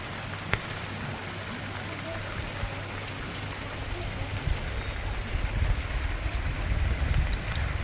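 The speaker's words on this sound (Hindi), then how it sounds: "अभी ना बारिश शुरू हो गई है भाई बद्रीनाथ धाम में।" Gentle rain patters steadily at Badrinath Dham in the mountains, a soft even hiss of drops with occasional sharper ticks, growing slightly heavier toward the end, with no talk.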